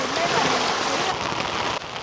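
Heavy monsoon rain in the Konkan countryside over rice paddy fields, a dense, steady hiss of downpour close by that eases slightly toward the end.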